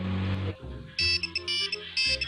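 A mobile phone ringtone plays as a bright electronic tune in repeated short bursts, close and loud, after a brief lower sound at the start.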